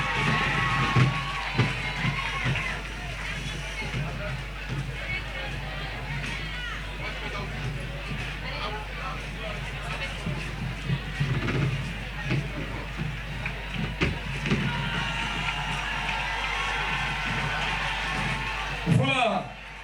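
Audience at the Miss Nzassa 2023 beauty pageant preselection in Tiassalé applauding and cheering as a contestant receives her sash, a steady loud crowd roar with clapping and shouts sustained throughout, ending abruptly.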